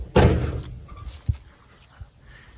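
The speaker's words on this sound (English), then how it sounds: "let me shut the door, give you guys a full effect" A car door on a 1969 Chevy Corvair body swapped onto an S10 chassis shuts with a single solid thud, followed by a couple of quieter knocks and faint rattles.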